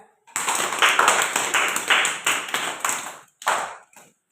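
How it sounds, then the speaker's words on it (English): Children in a classroom clap in a quick run of sharp bursts, about eight close claps in a loose rhythm, then a short pause and one last clap. "Claps."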